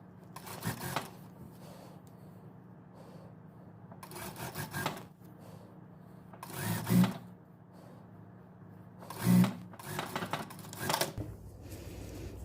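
Sewing machine stitching a dress seam with a zipper, running in several short bursts of rapid mechanical whirring separated by quiet pauses, close and moderately loud.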